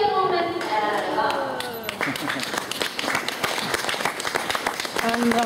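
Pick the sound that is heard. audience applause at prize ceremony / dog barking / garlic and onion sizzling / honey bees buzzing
audience applause at prize ceremony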